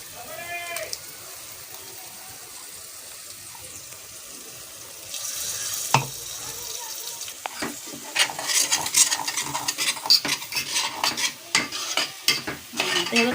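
Ginger paste sizzles in hot oil while being stirred, with scraping and stirring sounds growing busier and louder in the second half of the clip.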